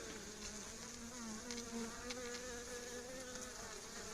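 A swarm of honey bees buzzing in a steady, dense drone with wavering pitch, close but soft, continuous throughout without any voices.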